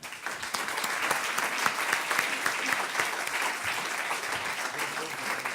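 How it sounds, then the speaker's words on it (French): A conference hall audience at a grandes écoles congress breaks into sustained, dense applause that holds at an even level throughout, with a bit of talk faintly mixed in. "je crois qu'on peut les applaudir à nouveau"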